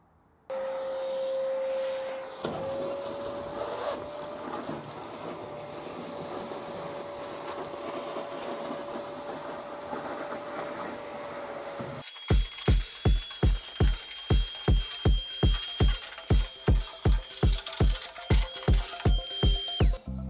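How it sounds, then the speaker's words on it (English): A wet shop vac sucks water out of an M416 overland trailer, its steady high-pitched motor whine running loud and close, then switching to rapid, regular slurping pulses as the nozzle draws up liquid. "I'm just gonna go ahead and use a wet shop vac and just basically suck this out"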